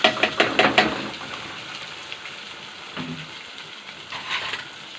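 Rice dropped into hot oil in a pan, a quick clattering burst at the start settling into a soft, steady sizzle with a few faint stirs.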